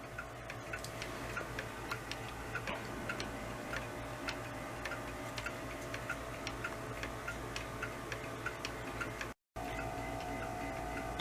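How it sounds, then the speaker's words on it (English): A regulator wall clock ticks steadily and faintly, an even run of soft clicks with a low hum in the background and a brief dropout near the end. "My first regulator clock."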